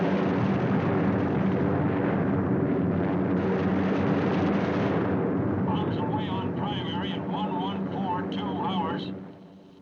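Bombs exploding after release from a wartime bomber, a continuous heavy rumble of blasts and droning aircraft that fades out near the end, with a voice speaking over it in the latter half.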